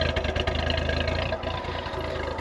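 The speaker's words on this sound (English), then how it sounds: "You can hear that it's still just a little bit choppy if I bring you in here by the exhaust." A 1993 Nissan D21 pickup's KA24E four-cylinder idles close to the exhaust after a fuel injector replacement, a steady low rumble with a slightly uneven, choppy pulse throughout.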